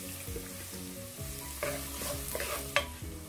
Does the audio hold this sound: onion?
yes